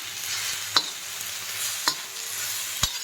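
Fenugreek leaves tossed with red chilli powder and salt on a hot tawa, soft continuous scraping and faint sizzle with three sharp clicks of the spatula against the iron pan, no voices.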